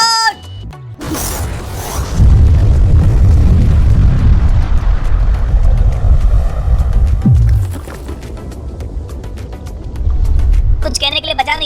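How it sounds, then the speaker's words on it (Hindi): A huge blast from bombs set around a safe roars out as a loud, sustained rumbling boom lasting several seconds, then fades and swells again, with excited voices before and after. "लेकिन ये एक असली धमाका है।"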